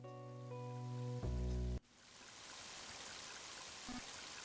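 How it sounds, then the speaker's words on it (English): Heavy rain in the video game Mother 3, a steady broadband hiss that takes over after a short burst of tonal game music and runs on alone, with a faint low blip near the end. "Mighty heavy rain, isn't it?"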